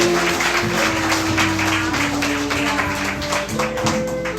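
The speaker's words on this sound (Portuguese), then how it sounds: "Vai me dar uma salva de palmas." A church congregation claps together while music plays, clapping and tapping mixed with sustained tones from the band, fairly loud and continuous.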